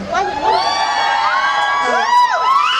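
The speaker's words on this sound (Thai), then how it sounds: "วันนี้คนเยอะมาก แล้วก็เสียงกรี๊ดดังมาก" A crowd at a pop singer's performance at a Robinson mall in Samut Prakan, Thailand, screams and cheers loudly, high shrill voices rising and falling in overlapping whoops that never let up.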